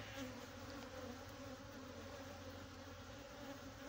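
Honeybees buzz steadily in an open beehive during an inspection, a constant, fairly faint droning swarm with no talking.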